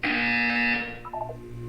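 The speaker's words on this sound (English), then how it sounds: "You will hear a buzzer." Harsh buzzer in the video game Portal 2, one loud sustained electronic blare lasting under a second, then a few short chirping tones and a low hum.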